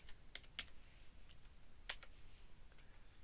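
Computer keyboard typing while drafting spindle screw parts on a new sheet, with faint, sparse key clicks in small bursts at close range in a quiet room and no talking.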